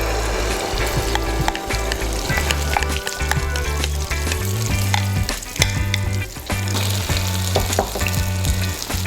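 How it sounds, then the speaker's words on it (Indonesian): Fu yung hai egg fries in hot oil over high heat, a loud, continuous sizzle with crackling bursts and occasional stirring, no voices. "Dan pertama kita goreng dengan api panas"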